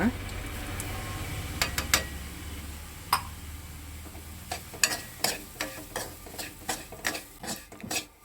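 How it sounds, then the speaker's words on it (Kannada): Semolina (rava) for rava laddu dry-frying on a low flame with cashews and raisins, a quiet rustling sizzle cut by a run of sharp, regular spatula taps and scrapes against the pan, close by. "ಸಣ್ಣ ಉರಿಲಿ ಇಟ್ಕೊಂಡು ಫ್ರೈ ಮಾಡ್ಕೊಳ್ಳಿ, ಚೆನ್ನಾಗಿ ಫ್ರೈ ಆಗಬೇಕಿದು."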